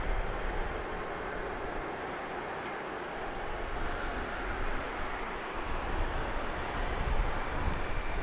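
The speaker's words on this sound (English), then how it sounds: "American Flight 351 to Charlotte is going to pull out and begin to make its way to the end of runway 8" An American Airlines jet pulls out to taxi toward runway 8 at Grand Cayman airport, heard as a steady, fairly distant engine rumble and whine that holds broadly even throughout.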